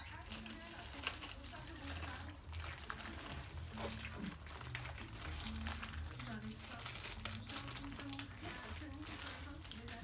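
An Amazon package being opened, with irregular crinkling and crumpling of packaging and occasional sharper rustles, while a person talks over it.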